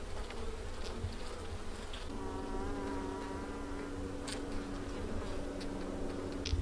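Honey bees droning loudly around an open hive, a dense continuous buzz close up with individual insects passing near and a few faint ticks.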